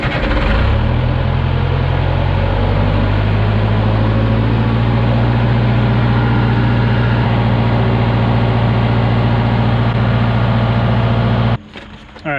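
A John Deere 450 crawler's diesel engine starts and runs up steadily to 1800 RPM, a loud, close, continuous drone and rumble that holds evenly, then cuts off abruptly near the end.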